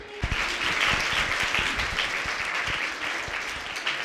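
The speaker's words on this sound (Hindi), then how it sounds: "इनका स्वागत किया जा रहा है तालियों के साथ।" Applause from students welcoming newly admitted sixth-grade classmates at a school, a dense, steady patter of many hands that holds for the whole span at moderate loudness.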